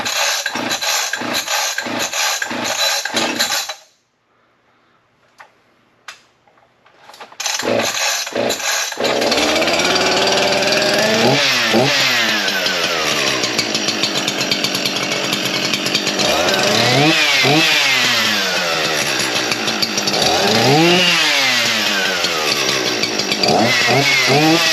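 Echo CS-4910 rubber-mounted chainsaw running loud and close in a rapid idle putter, cut off by a few seconds of near silence with small clicks, then restarted into a sustained roar with several revving surges up and down.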